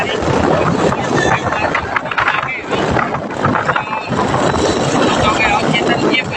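A motorbike engine runs loud and close with a dense, steady roar, and voices speak over the noise.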